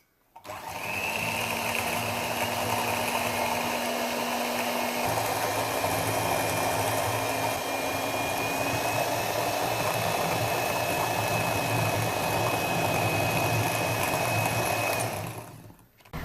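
An electric beater fitted with a single hook mixes dough, giving a steady, loud motor whir with a faint high whine that runs unbroken for about fifteen seconds, then stops.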